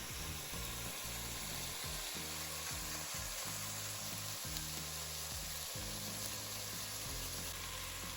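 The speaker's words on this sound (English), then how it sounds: "While the bacon's cooking," Bacon frying in a pot for Zuppa Toscana soup, a steady close sizzle running unbroken throughout, with periodic low clunks and scrapes of a utensil stirring it.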